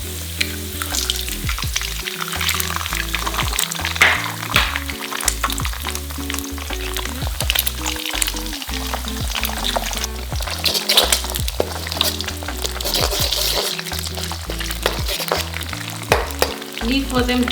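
Eggs sizzling in a hot pan alongside fried shallot for Malaysian-style mee goreng, a steady crackling fry with occasional stirring scrapes, close and continuous with no talk.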